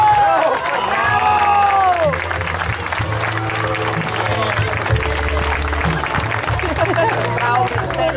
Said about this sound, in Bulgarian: Вашите силни аплодисменти за един от гол майсторите в финала